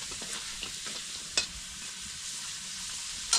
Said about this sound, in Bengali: আলুটা লাল লাল করে ভেজে নিলাম।